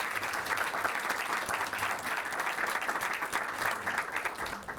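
An audience applauds at a human rights book fair event on economics and dictatorship, with steady, fairly dense clapping continuing throughout.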